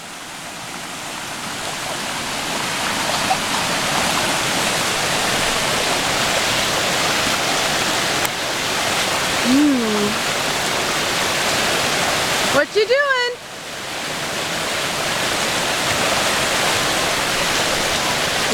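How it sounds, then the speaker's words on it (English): A stream rushes loudly beside a camp on Graves Mill Trail, a dense, constant roar that fills the whole clip, with a couple of short voices and a child's call cutting briefly over it. "The one downside of rushing water is nobody can hear anybody. It's very loud, surprisingly."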